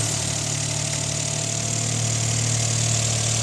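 Suzuki Jimny JB64 engine with a PFX 300 Monster Sport air filter idling steadily, a close, even mid-pitched rumble with constant low hum and no talking.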